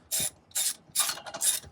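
A hand ratchet unbolts the motor mount of a Mazda RX-7 with a 12A engine, four quick, close bursts of clicking, evenly spaced about half a second apart.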